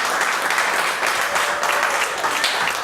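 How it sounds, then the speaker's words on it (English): A live audience claps steadily in dense, even applause at an anniversary show, close and full for the whole stretch with no talk over it. "Give them a big round of applause"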